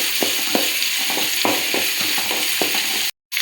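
Onions fry in a pan for a Mangaluru-style clam dish, a close, steady sizzle broken by regular scraping strokes of stirring, then a sudden cut to silence at the end.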